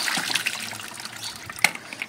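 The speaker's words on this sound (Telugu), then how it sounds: "అక్కడ కడుక్కున్న వాటర్ మొత్తం ఇక్కడ బయటకు వచ్చేస్తాయి." Dirty water drains out of a washing machine's filter outlet, a faint uneven trickle and splash with a brief louder gush near the end.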